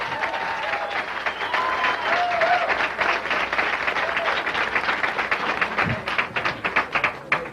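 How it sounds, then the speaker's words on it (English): An audience at a three-act comedy show applauds a comedian with loud, dense clapping that holds steady for several seconds and breaks into scattered claps near the end, with faint voices underneath. "let's have a big round of applause. Chris Raines, right here."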